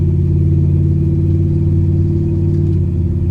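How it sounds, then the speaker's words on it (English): A Camaro's mid-range engine revs steadily on a first test drive after a horsepower upgrade, a loud continuous rumbling drone with a slight pitch drop near the end as it shifts gears. "Let's see if we can hit all the gears for a test drive."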